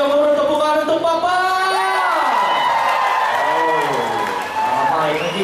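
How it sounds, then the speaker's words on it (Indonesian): A crowd at a KDCA Dazanak 2018 finals event roars and claps for a performer, with cheering, whoops and sung or shouted voices riding over the applause, loud and close throughout. "Yang paling gemuruh tepuk tangan untuk Papa."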